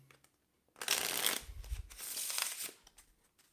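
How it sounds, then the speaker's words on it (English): Playing cards riffled together in a mid-air shuffle by a magician, a close crisp burst of fluttering card snaps lasting about two seconds, rising and then tapering off, with no voices. "mid-air riffle shuffle,"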